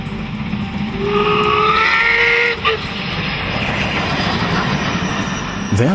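Steam locomotive climbing a steep grade in the Allgäu region of southern Germany, a loud continuous rumble of the train with drawn-out whistle-like tones rising above it.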